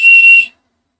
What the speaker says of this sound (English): Survival whistle